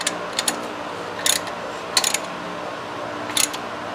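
A hand ratchet wrench tightens the accessory belt pulley on a V6 engine, giving short clusters of crisp metallic clicks at irregular intervals over a steady low background hum.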